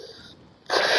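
A single short sneeze bursts out near the end after a quiet, held-back breath, loud and close with a sharp airy rush.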